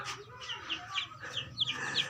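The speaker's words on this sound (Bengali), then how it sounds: "কী সুন্দর লাগতেছে দেশি মুরগিগুলো" Desi chickens clucking nearby in a short run of bright, repeated calls, with faint background noise and no talking.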